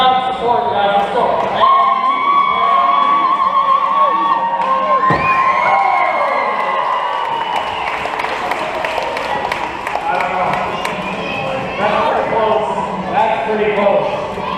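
Crowd of students cheering and shouting at a school skateboard demo, loud and sustained with excited yells rising and falling, mixed with voices talking nearby.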